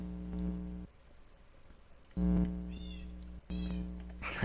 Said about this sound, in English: That's fucking cat sounds over there.